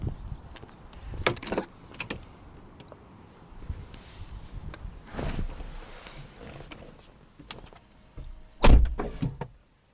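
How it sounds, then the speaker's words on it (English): A 2007 Porsche 911 Turbo (997) door swings shut with one loud, solid clunk near the end, preceded by quieter handling thumps and rustles nearby, with no talking. "First thing I noticed, that door clunk."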